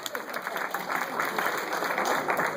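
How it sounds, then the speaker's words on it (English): A brief round of audience applause at a New York governor candidates' event on Staten Island, moderately quiet and dense, with faint voices in the crowd. "I'd like to hear a round of applause for my girl"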